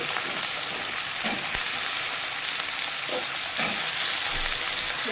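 Potatoes and carrots frying in a pan of hot oil, a steady, fairly quiet sizzle with a few soft stirring scrapes, no voices.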